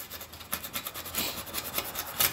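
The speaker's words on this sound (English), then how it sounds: "All I'm gonna do is scrape." A scraper is pushed over a stovetop burner area to clear off caked-on grime, giving close, rhythmic rasping strokes, about a dozen short scrapes in a row with no talking.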